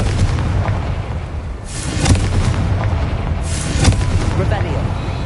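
Deep booming blasts from the Confringo fire spell in a Hogwarts video game, two heavy bursts ringing out over a rumbling ambient game backdrop.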